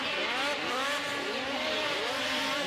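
Boss Racing West Coast Customs XPS Ski-Doo snowmobile racing over a rough track at an ISOC event in Dubuque, Iowa, engine loud and close, pitch rising and falling in repeated surges as it powers through bumps.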